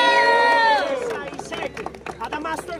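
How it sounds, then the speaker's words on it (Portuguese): A crowd at a Brazilian rap battle in Guarulhos cheers and shouts, loud at first as a sustained roar, then breaking into scattered yells and claps that fade quickly. "Barulhos, barulhos pra quem gostou das rimas do Adamastor"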